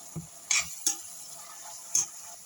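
Eggplant, peppers and onions fry quietly in a pan, a faint sizzle broken by a few sharp scrapes and clinks of stirring.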